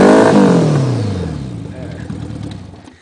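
A 1978 Honda Goldwing motorcycle engine, loud and close, revs hard at the start, then winds down in falling pitch and settles toward idle over a few seconds.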